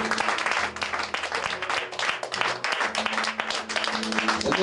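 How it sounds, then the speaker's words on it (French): A church congregation applauding together, dense sustained clapping with voices and a low musical hum mixed in throughout. "Acclamez pour le Seigneur."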